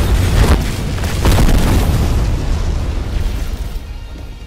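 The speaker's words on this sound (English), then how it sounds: "Now we doing flame wave cannon." Flame wave cannon ultimate move going off in a video game, a loud sustained booming blast with rumbling bursts early that slowly fades over several seconds, no talk.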